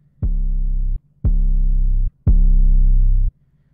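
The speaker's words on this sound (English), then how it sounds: "I used the City 808 from the Unison pack as well." Three sustained City 808 bass notes from the Unison sample pack play one after another in a trap-style beat, each deep, booming and cut off cleanly before the next.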